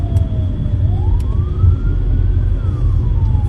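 An ambulance siren wails loudly and continuously on a road, its pitch sweeping slowly up and down over heavy traffic rumble, close and prominent.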